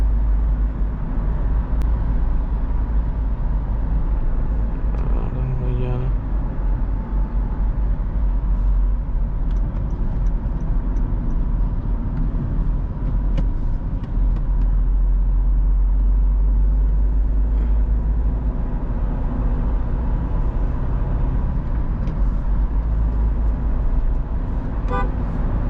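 A Honda City drives on an early-morning highway among heavy lorry traffic, with a loud, constant road and engine rumble and a few short horn toots around the middle.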